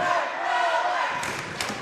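A loud home crowd at a boys varsity high school basketball game between White Swan and Highland roars and cheers, with a dense sustained din and a burst of clapping near the end.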